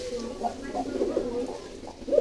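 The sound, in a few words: pigeons cooing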